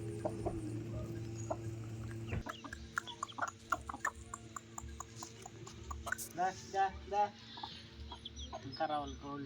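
Chickens cluck nearby at a home in the countryside, scattered short calls and cackles that grow busier and louder toward the end, while a low steady hum fades out early on.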